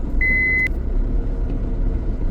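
A car reverses on a jungle road at night, its low engine rumble steady throughout while a single short electronic beep sounds near the start.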